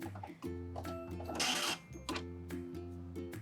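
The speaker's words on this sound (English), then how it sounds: "Let's test out the 4-thread overlock." A Husqvarna Viking Amber Air S600 serger stitching a 4-thread overlock seam through fabric, its motor whirring in short bursts with pauses between runs, close and fairly loud.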